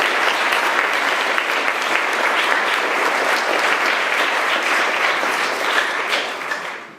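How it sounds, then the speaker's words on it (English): Sustained applause from a large audience at a boys' 8th-grade graduation ceremony, dense and even clapping throughout that fades toward the end. "Let's give a quick round of applause to those volunteers on leadership"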